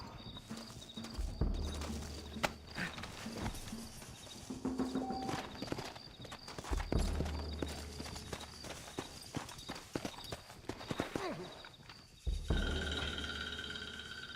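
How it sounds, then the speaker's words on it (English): Horses in the video game Red Dead Redemption, their hooves clip-clopping in steady, fairly close rhythmic bursts against a low rumbling bed, with occasional snorts and game sounds and no talk. "Looks like Carlos left us some horses."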